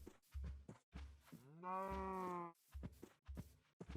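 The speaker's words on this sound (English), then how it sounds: "Let's put the cows in there." A Minecraft cow gives one long, drawn-out moo in the middle, framed by short, sharp game sound bursts before and after.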